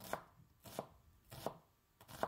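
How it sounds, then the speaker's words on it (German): A knife dices an onion on a cutting board with four distinct, evenly spaced chops, close and fairly quiet, with no voices. "Dann noch die Zwiebel schneiden, die habe ich gewürfelt"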